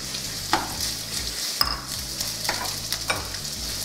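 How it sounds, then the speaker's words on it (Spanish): Chopped onion sautéing in oil in a pan for a chicken and rice dish, giving a steady soft sizzle with a few scattered clicks and scrapes of stirring, heard alone and at low level. "para poner a sofreír lo que habíamos picado anteriormente"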